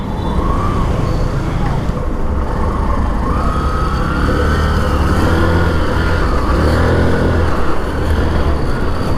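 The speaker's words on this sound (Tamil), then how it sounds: "இந்த வண்டி ஒருத்தையும் ஓட்டி பார்ப்போம்" A second-hand motorbike engine runs loudly and continuously during a test ride, its pitch rising and falling with the throttle, with wind and road noise throughout.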